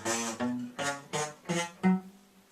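Six poorly fretted guitar notes, each muffled and unclear, plucked one after another at a steady pace with short gaps. Faint and close, with no talking.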